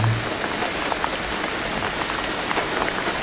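A sudden rain shower falls during a walk to the sea, a steady, dense hiss of drops hitting the ground and nearby surfaces, with no voices.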